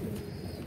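Pigeons coo softly in a brief, continuous low murmur, close and steady, with no other sounds over it.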